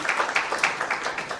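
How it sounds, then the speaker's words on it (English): An audience at a conference hall applauds, a steady patter of many hands clapping at close range for a brief stretch. "Maybe you can give her a better clap, please."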